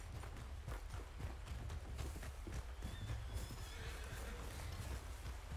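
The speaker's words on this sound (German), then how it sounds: "Da ist mein Pferd." A horse in Red Dead Redemption 2 whinnies while its hooves clip-clop steadily at close range, the footfalls falling in a regular rhythm over a low ambient rumble.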